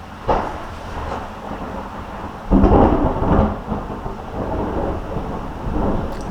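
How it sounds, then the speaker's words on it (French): Deep rolling thunder from a thunderstorm rumbles in waves, with a sharp loud crack partway through as lightning strikes close by, under steady rain. "Je sais pas si vous allez entendre l'orage là, l'éclair qui a dû tomber mais juste à côté."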